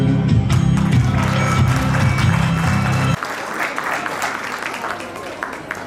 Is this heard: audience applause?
yes